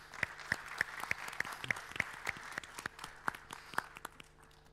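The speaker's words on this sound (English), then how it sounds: "Please give the panel a big round of applause." Audience at a blockchain event claps for a panel. Fairly quiet, sparse claps form an even, rhythmic pattern, with little voice.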